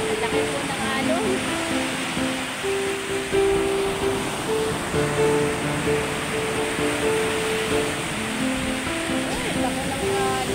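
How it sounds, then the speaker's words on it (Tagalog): Large ocean waves crash and churn in a continuous loud roar along a shore littered with washed-up driftwood, while people talk nearby over the surf. "Ang laki po ng alon"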